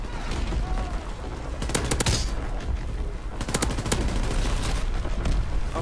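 Rapid automatic gunfire in a war video game, with dense bursts of shots and volleys crackling loudly over continuous battlefield noise, two heavier clusters standing out.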